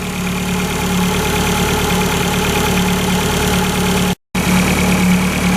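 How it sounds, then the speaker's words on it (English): A Fiat Abarth turbo engine idles steadily while warming up, giving a continuous close, loud drone with an even mechanical texture and a brief dropout near the end. "So I'm going to let the engine warm up and see what happens here."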